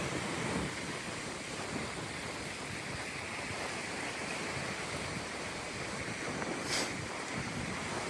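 Sea waves washing beside the Ballast Bank, a constant broad surf roar mixed with wind buffeting the microphone, steady and even throughout with no voices.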